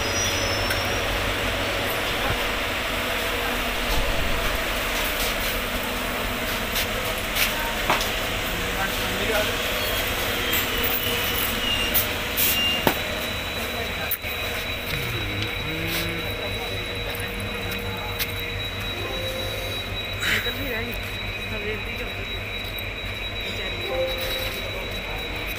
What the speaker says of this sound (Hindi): ते आ जाओ फिर अपनी ट्रेन रुकगी।